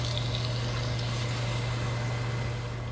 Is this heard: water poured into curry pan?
yes